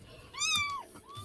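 A kitten lets out one clear, rising-and-falling meow, followed by a shorter, softer second mew, close by with no talking over it.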